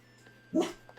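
A single short dog bark or boof sounds close by in a quiet room over a faint steady hum.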